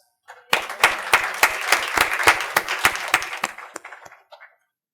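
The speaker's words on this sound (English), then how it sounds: "Big round of applause." A council meeting audience applauding, with sharp rhythmic claps building quickly, staying loud for several seconds, then thinning out to a few last claps.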